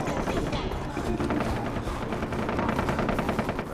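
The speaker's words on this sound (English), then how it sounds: "A lot of gunfire going on." Dense, continuous gunfire in the video game Far Cry 3, rapid automatic bursts overlapping into a loud, unbroken barrage.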